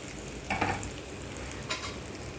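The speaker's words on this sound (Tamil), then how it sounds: "அதை போட்டு வதக்கி எடுத்துடலாம்." Small turkey berries are sautéed in a pan, giving a quiet, even sizzle with two short scraping stirs of the spoon, heard close and alone.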